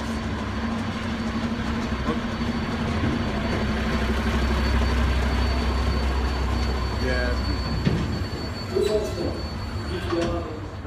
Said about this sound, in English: We've got a tourist train coming through here